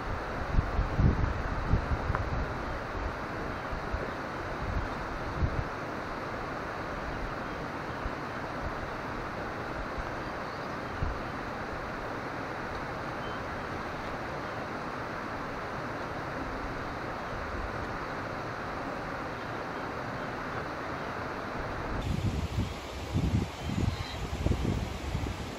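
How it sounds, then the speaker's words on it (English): River flowing near an outdoor campsite as a constant broadband rush that stays loud and steady, with occasional low wind buffeting and a few thumps near the end. "apologies for the sound of the river"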